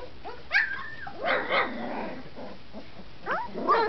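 Young puppies about twenty days old yip, bark and whimper in short irregular bursts, close by and fairly faint, with no talking.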